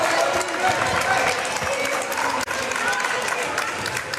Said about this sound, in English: Their fans who've made the trip give their seniors a nice round of applause as they leave